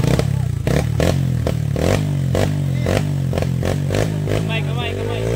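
A dual-sport motorcycle with dual-sport tyres is held at full throttle on a steep uphill challenge climb, its engine roaring loudly and unevenly with clattering bursts while excited voices shout over it.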